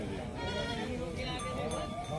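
Pakistani Beetal goats bleating on a goat farm, with repeated wavering bleats close by over a steady background of other animal and voice-like sounds.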